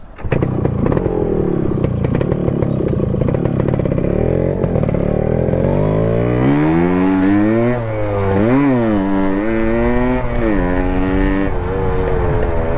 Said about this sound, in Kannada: ಬನ್ನಿ ಓಡಿಸೋಣ ಹೇಗಿದೆ ಅಂತ ನೋಡೋಣ ಬನ್ನಿ ಗಾಡಿ